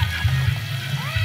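Water is poured into mutton cooking in a pot on a wood-fired chulha stove for an Aagri Koli meal. It gives a soft, brief sloshing and splashing over a low steady hum.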